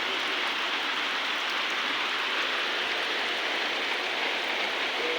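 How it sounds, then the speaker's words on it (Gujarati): Rain falls in a rural village, a soft, continuous, even hiss of drops that neither builds nor fades, with no voices. "અમારે તો વરસાદ અહીંયા ચાલુ થઈ ગયો છે"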